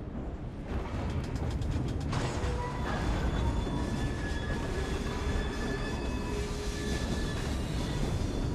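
A steam train from Assassin's Creed Syndicate runs with a steady, dense rumble and rattling carriage noise, with faint metallic creaks and squeals throughout, no voices.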